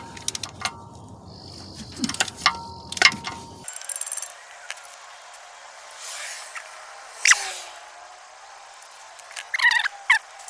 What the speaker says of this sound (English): I love this Harbor Freight ratchet that bends here. It makes it so much easier to get bolts out in tight spots.